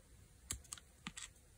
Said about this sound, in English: I'm going to punch a hole there